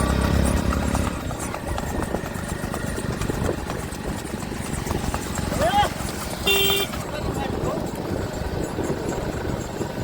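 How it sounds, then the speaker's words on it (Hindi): Racehorses go past at a horse race in Bhachau, with clip-clop hoofbeats mixed into crowd chatter, an engine hum, and people talking throughout. "अभी सभी घोड़े जा रहे हैं इधर से"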